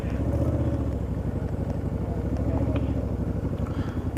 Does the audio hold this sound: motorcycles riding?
yes